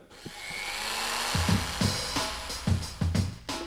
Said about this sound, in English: get me the drill